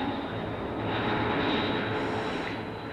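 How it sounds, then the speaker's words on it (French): A Fokker F-27 turboprop airliner starts its takeoff roll at the far end of runway 06, a steady loud engine roar with a sustained high whine that builds slightly midway, with no talking. "le F-27 commençait à rouler"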